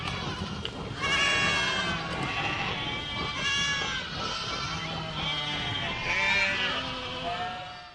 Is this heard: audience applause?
no